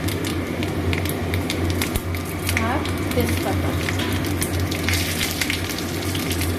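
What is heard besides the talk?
panch phoron and bay leaf sizzling in hot oil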